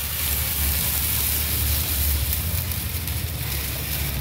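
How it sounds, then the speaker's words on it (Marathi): Water poured into a pan of hot cumin tempering on a stove while cooking shengule, a steady loud hiss and sizzle with bubbling crackle, continuous and unbroken throughout. "पाणी टाकतोय आपण त्यात."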